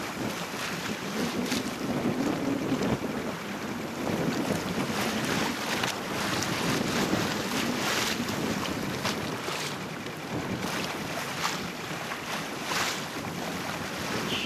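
Steady wind buffeting the microphone aboard a boat cruising at about 10 knots of wind on San Francisco Bay, with a continuous rushing roar and faint water wash underneath, loud and unbroken throughout.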